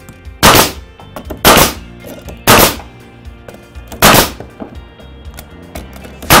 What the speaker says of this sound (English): Go for the trusty nail gun.